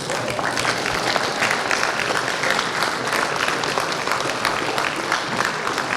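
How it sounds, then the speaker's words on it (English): A conference audience claps for the event staff, a continuous, fairly loud burst of applause holding steady, with some voices underneath. "they all deserve a round of applause"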